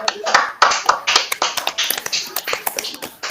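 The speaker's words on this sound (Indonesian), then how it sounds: "Tepuk tangan dulu untuk kelompok 2." A classroom of students applauds a presenting group during an exam session. The claps are sharp and uneven, scattered rather than in unison, with voices murmuring underneath.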